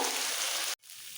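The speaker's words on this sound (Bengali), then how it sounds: "এইভাবে গ্যাসটা কমিয়ে শিম আলু ভেজে নিতে হবে" Broad beans and potatoes fry in a pan over low gas, a loud, steady close-up sizzle that cuts out abruptly for a moment and then resumes more softly.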